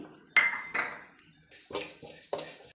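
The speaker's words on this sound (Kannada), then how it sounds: "ಬಿಳಿ ಎಳ್ಳು ಒಂದೆರಡು ಸ್ಪೂನು ರೋಸ್ಟ್ ಮಾಡ್ಕೊಳ್ತೀನಿ" A couple of spoons of white sesame seeds dry-roast in a kadai on a stove as a metal spoon stirs them, making several close clinks, pings and short scrapes against the pan, separated by brief pauses, with no voices.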